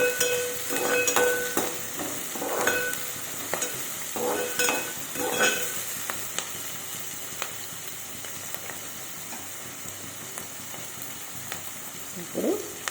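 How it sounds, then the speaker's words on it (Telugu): Chillies crackling and frying in hot oil in a pan: continuous sizzle with irregular sharp pops and spits, close and moderately loud, with occasional stirring scrapes and no talking. "మిరపకాయలు చిట అంటుంది"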